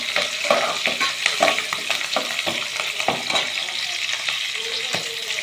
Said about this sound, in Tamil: பச்சை மிளகாய், நல்லா வதக்கிக்கலாம்.